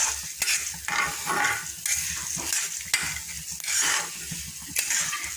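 Ingredients for karam podi fry in a pan on low to medium flame, with repeated scraping stirs and a soft sizzle in a close, busy rhythm and no one talking.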